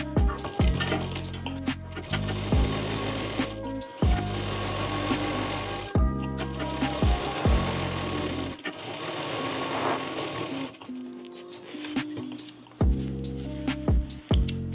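A sewing machine stitches down the middle of a square bag piece to divide it into two pockets, running in repeated bursts of several seconds with short pauses between them, close and steady.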